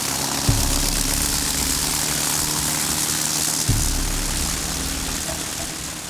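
A fixed-wing aircraft engine just started and running before takeoff: a steady loud propeller drone with a low throbbing hum and broadband wash, plus a couple of brief thumps, with no talk.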